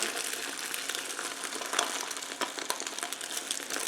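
An egg frying in a pan as it is swirled, giving a steady close hiss and crackle with small sharp pops scattered throughout, no voices.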